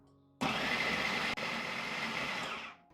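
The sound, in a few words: food processor chopping chicken breast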